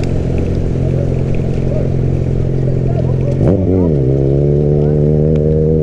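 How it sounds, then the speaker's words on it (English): Motorcycle engine held near redline while coasting past on the back wheel in Brazil, a loud sustained drone that bends sharply in pitch midway as it flies by, then settles into a steady high note. "is that someone red line coasting? And then I just see him fly past on the back wheel"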